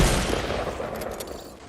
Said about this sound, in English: So we know there was more shooting that way.